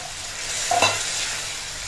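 Mustard greens saag stirred in hot oil in a pan, a steady hiss of frying with a brief scrape of the spoon in the middle, close and continuous.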